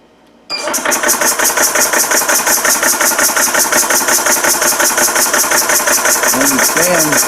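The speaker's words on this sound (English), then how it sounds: "Okay, you can hear the fan starting up." A ToAuto A3 PCP air rifle compressor switches on after a brief quiet moment, and its cooling fan spins up into a loud, steady whir with a rapid pulsing rhythm that runs to the end, while a voice talks briefly near the close.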